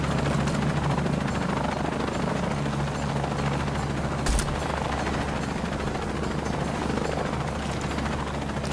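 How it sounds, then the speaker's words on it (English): A helicopter in the video game Shadow of the Tomb Raider gives a loud, steady rotor drone that runs the whole way through, with one brief sharp burst midway and no talk. "He's in a chopper, but I don't know how to get to him."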